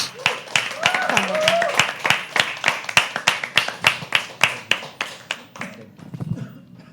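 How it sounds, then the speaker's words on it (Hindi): Audience at a live poetry open mic clapping to welcome a performer onto the stage, a fairly close round of steady rhythmic claps with some crowd murmur, tapering off at the end. "तालियों से उनका स्वागत करते हैं।"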